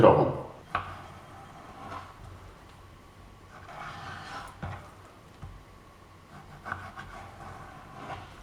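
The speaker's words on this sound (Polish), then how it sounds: "teraz musimy rozdrobnić łopatkę i boczek, kroimy w kostkę 2-3 cm" Knife chopping pork shoulder and bacon into 2-3 cm cubes on a board, giving irregular knocks and thuds spaced a second or so apart, close and fairly quiet, with no talking.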